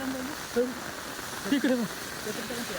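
Steady rain falls on a road in Nagadevanahalli, Bengaluru, a continuous broadband hiss running the whole time, with people talking over it.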